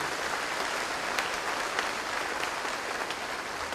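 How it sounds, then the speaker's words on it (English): Steady applause from a graduation ceremony audience honoring students after their performances, a dense continuous wash of many hands clapping at even loudness for the whole stretch. "One more round of applause for our students and their performances"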